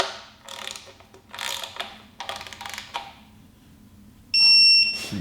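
A ratchet tightens the timing cover bolts on a 6.2L LT engine fitted with a Katech oil pump, giving several bursts of rapid close clicking, followed by a sharp electronic tone.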